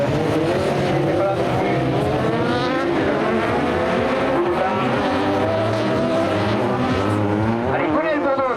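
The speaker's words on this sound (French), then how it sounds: "Gwenel Bourdeau, tiens, qui fait la course en tête, le pilote de la région de Châteaubriand" Touring cars racing on a circuit at Mauron, several engines whining and shifting pitch as the cars pass close by, continuous loud revving with overlapping engine tones throughout.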